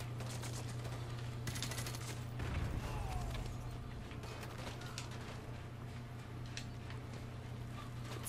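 Gunfire in the video game Modern Warfare 2: continuous rapid bursts and crackling shots over a steady low rumble, fairly faint and dense throughout.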